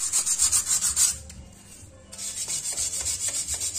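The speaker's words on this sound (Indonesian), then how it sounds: "Saya akan bersihkan pakai amplas." Sandpaper is rubbed back and forth along a car door's window track while it is being cleaned, a close, rhythmic scratchy rasping that stops for about a second and then resumes at the same pace.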